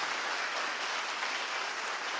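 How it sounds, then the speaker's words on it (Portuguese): Church congregation applauding during a family worship service, a dense, even wash of clapping from many hands for about two seconds, moderately distant with no voices on top. "Aplauda ao seu Deus, bem forte."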